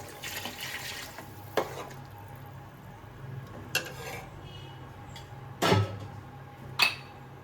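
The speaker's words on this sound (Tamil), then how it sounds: "4 டம்ளர் தண்ணி ஊற்ற போகிறோம்" Water runs steadily into a pot for tomato biryani, with a few sharp clanks of metal and utensils knocking against it.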